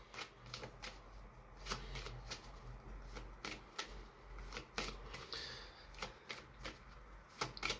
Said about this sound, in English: Just gonna make sure these are always shuffled to perfection.